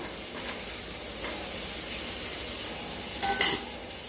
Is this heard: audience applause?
no